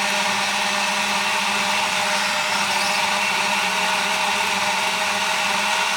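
A Silvercrest TO GO SSMA 67 A1 smoothie maker blends steadily, its motor whirring loud and unbroken at close range.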